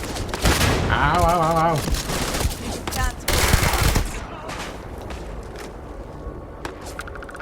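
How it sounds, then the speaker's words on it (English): Turret gunfire tearing through a spaceship in Starfield, a dense burst of rapid shots and impacts for several seconds, then scattered sharper hits fading out, loud and close, with a voice crying out in pain over the start. "That felt like a turret shooting through the actual ship."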